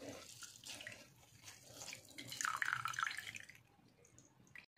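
Water dripping and trickling as homemade paneer is squeezed in a cloth, an uneven run of splashes and drips that swells in the middle and then tapers off, close and fairly faint.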